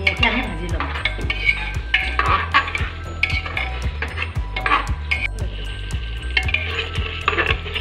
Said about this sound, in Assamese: এয়া এতিয়া আমি আলু, মছলা আৰু মাংসটো ধুনীয়াকৈ আমি ভাজি ল'ম।